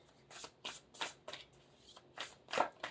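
Self-care oracle cards are shuffled by hand in a series of quick, crisp riffling bursts with short pauses between, close and fairly quiet, with no speech.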